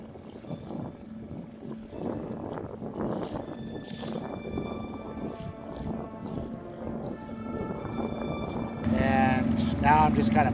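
The sailboat SV Enjoy putters under motor into the wind on Montague Bay, a low steady engine chug mixed with wind noise while someone talks over it, and the wind roars louder at the end.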